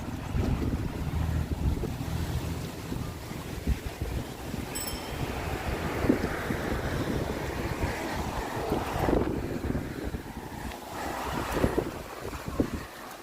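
Gusty wind buffets the microphone outdoors on a city walk, a continuous low rumble and whoosh that rises and falls with the breeze, no voices.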